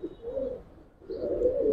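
Giribaz pigeons in a loft giving low, throaty coos in two rolling bursts, close and fairly soft, with a faint chirp between them and no talking.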